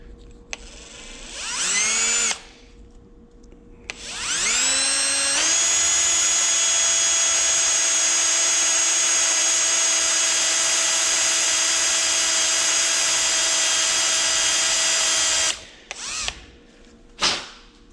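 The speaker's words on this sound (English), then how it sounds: "now I'm just going to use my pistol drill, and I'm going to do the connecting hole" A handheld pistol drill boring through metal on a Yamaha YFZ450 engine whines loudly at a steady high pitch for about ten seconds, spinning up after a short burst and a pause, then cutting off abruptly.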